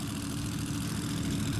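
Boss Hoss V8 motorcycle engine roaring loud and close with a heavy, steady low rumble under hard throttle, no voices over it.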